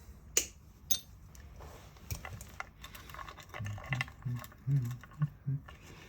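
Wire leads of the output jack being snipped during the strip-down of an Ibanez Gio electric guitar, a few short crisp clicks and mechanical handling noises close up, with light rattling of parts between cuts.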